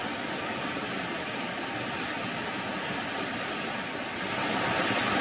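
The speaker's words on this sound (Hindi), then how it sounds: "पानी का तेज बहाव तस्वीरों के जरिए भी आप समझ सकते हैं।" Floodwater flows strongly in a river, a dense, steady roar of rushing water that swells slightly toward the end, with no voices.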